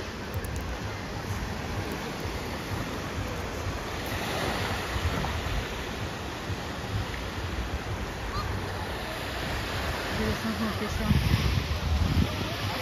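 Steady wash of sea surf breaking on a sandy beach at Incekum Nature Park, Alanya, Turkey, with wind buffeting the microphone and a slightly louder rush near the end.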